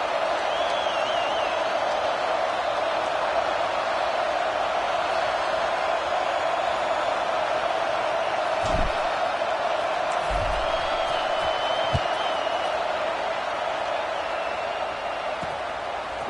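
A football stadium crowd at kickoff in a game against Michigan, a broad continuous roar of many distant voices with faint whoops rising now and then, plus a few low thumps.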